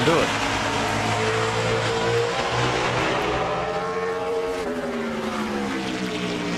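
A NASCAR Sprint Cup car qualifying at Bristol for the 2009 Sharpie 500 drones loudly, its engine pitch sliding up and down through the corners while a commentator talks over it.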